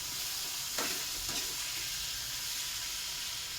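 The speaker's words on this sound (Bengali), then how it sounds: "তো স্বাদ মতন নুন, স্বাদ মতন হলুদ দিয়ে আমি একটু নাড়াচাড়া করবো।" Food with salt and turmeric sizzles and fries in a pan, a steady loud hiss broken by a couple of scraping stirs early on, with no one talking.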